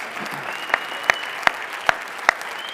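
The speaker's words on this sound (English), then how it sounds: "one more round of applause for our 2025 retirees" A school board meeting audience claps for the 2025 retirees. The sound is sparse and fairly quiet: a soft murmur of clapping with about five sharper, evenly spaced claps standing out.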